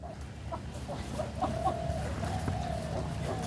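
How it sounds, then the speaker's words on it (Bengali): White domestic ducks at a pond edge give a run of short, repeated calls close by over a low outdoor background, with no speech. "এই যে এই হাঁসটা সাদা হাঁস"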